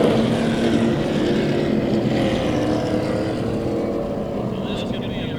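Super late model race cars roar past the start-finish line at The Bullring in Las Vegas during a 150-lap feature, a loud, continuous engine drone that fades slightly toward the end, with a commentator talking over it.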